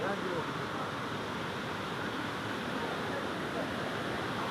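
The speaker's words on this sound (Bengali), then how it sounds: "জাস্ট জলের স্রোতটা দেখুন প্রথম স্টেপ এটা প্রথম স্টেপ বাউনি ফলসের" Steady broadband rush of water pouring down the first step of Bamni Falls in the Ajodhya hills of Purulia, a continuous close, full roar with no break and no voices.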